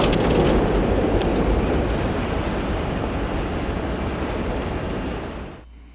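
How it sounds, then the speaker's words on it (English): A subway train rushes past in the video game The Warriors, a loud sustained rumbling roar with dense clatter that holds steady for several seconds, then cuts off abruptly near the end. "What train is this?"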